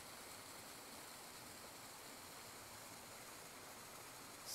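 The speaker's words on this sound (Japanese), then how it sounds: "川の音、" A river stream flowing in a natural setting, a steady, unbroken hiss of running water that stays soft and even throughout, with no voices.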